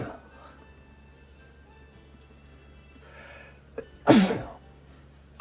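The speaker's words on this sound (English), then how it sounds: "Oh man, I gotta sneeze again." A single loud, sharp human sneeze from an allergy sufferer at a live trading card shop break, bursting out near the end after a quiet stretch with a soft intake of breath before it.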